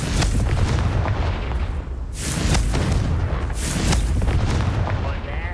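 Explosive Confringo spell cast in Hogwarts Legacy, heard as several loud blasts with broad rumbling bursts spread over a few seconds amid continuous game noise.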